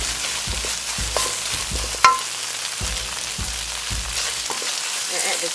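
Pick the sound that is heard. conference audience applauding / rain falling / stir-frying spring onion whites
stir-frying spring onion whites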